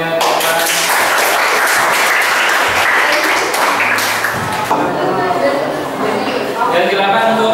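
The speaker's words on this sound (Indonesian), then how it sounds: "Silakan beri aplaus buat kelompoknya." A classroom group finishes presenting and gets a burst of clapping from classmates, dense applause that fades in the final seconds amid chatter and voices.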